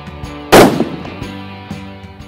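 A single loud, sharp rifle shot from a Blaser R8 Ultimate cracks at close range on a shooting range, followed by a brief ringing decay and quieter background sounds.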